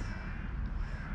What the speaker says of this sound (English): There come the crows